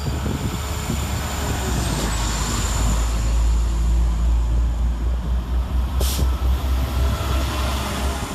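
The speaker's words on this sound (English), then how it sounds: "Next out we see 172332, working the 1013 West Midlands Railway service from Stratford-upon-Avon to" West Midlands Railway Class 172 unit 172332 on a Stratford-upon-Avon to Kidderminster service at Tyseley station, producing a loud, continuous low diesel rumble with rail noise and a brief high squeal partway through.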